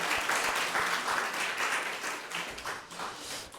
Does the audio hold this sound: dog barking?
no